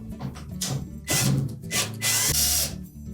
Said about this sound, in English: there are usually 2 to 3 screws in this area that will need to be removed